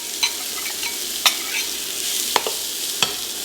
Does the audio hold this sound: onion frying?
yes